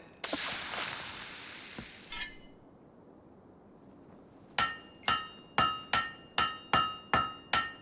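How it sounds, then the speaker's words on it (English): A blade is hammered at a forge in Fable 3: a scraping, ringing stretch, a pause, then eight sharp metallic strikes in an even rhythm, each ringing briefly and fading before the next. "Great hammer work there."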